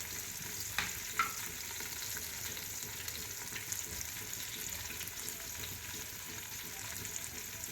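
Curry leaves and garam masala hit hot oil with deep-browned onion, giving a steady, close, dense sizzle that runs throughout, broken by a couple of small pops near the start.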